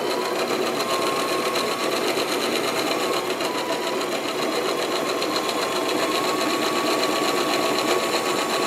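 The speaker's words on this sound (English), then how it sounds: "this machine it's been a wonderful machine for me" A home sewing machine stitches fabric grow bags, running continuously at a fast, even clatter for the whole stretch, close and loud with no talk.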